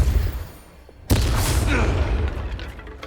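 A Depulso spell impact in Hogwarts Legacy lands as a sudden heavy boom with a bright blast, followed by a rumbling, crackling tail that slowly fades, loud and close after a quieter lead-in.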